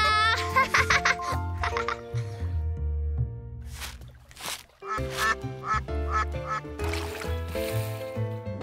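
A cartoon duck quacks in a children's animated park scene, with several bright quacks spread among music and playful sounds.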